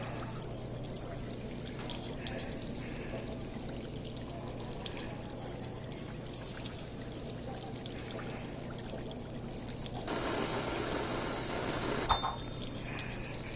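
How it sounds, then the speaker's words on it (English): Water pours into a pot in the VR game Job Simulator, a steady trickling stream that swells to a louder, brighter gush near the end, with no talk over it. "Time to pour water in it, I guess."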